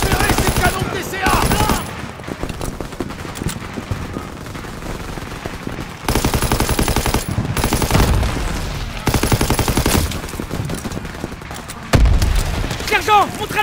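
Heavy gunfire and suppressing fire in a war video game, with sustained machine-gun bursts and booming impacts almost throughout, loud and close, broken by brief lulls, with shouted voices mixed in.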